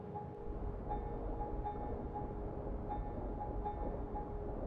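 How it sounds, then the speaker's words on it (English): A Factorio ammonia train rolls along with a continuous low rumble and faint periodic tonal clicks, steady and moderately close with no speech. "That train's going somewhere important. What is it? It's the ammonia train."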